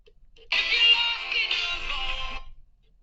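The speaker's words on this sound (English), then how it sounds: "Sorry, that was my phone." A mobile phone ringtone sounds close and clear for about two seconds, a bright electronic tone that starts abruptly and cuts off, with no talking.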